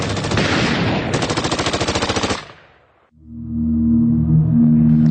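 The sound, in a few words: machine gun fire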